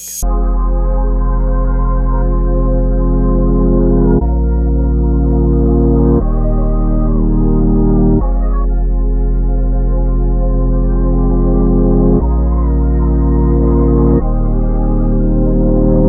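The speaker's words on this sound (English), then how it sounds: "So now this is what the sample sounds like reversed and EQ'd out to get that underwater trick." A reversed music sample, EQ'd for a muffled underwater effect in an RnB beat, plays alone as a steady, loud sustained chord texture with heavy low end that changes chord every couple of seconds.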